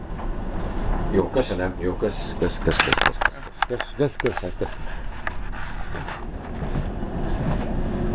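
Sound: train riding to Vienna

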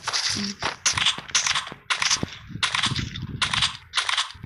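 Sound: gunfire in Free Fire video game

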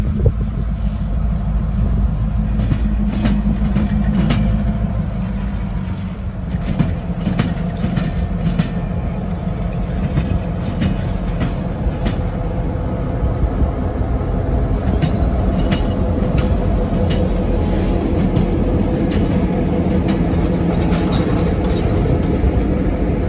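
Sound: train passing on the Norfolk Southern main line

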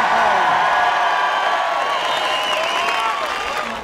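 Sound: crowd applauding and cheering at a political rally

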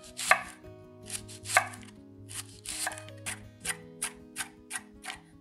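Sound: knife chopping scallions

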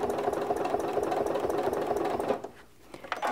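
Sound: sewing machine stitching a quilt along a ruler

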